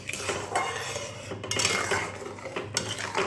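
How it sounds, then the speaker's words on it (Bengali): Mango pulp for amsotto is stirred continuously in a pan, with a busy scraping and clattering of a utensil against metal, close and fairly loud, with brief sharper knocks. "এবারে এটা সমানে নেড়ে যেতে হবে"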